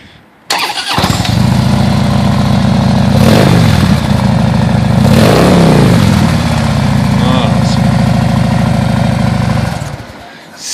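A Harley-Davidson motorcycle fitted with Fat Shots exhaust roars loudly and continuously with a deep, throaty rumble and surges of revving throughout, cutting off near the end.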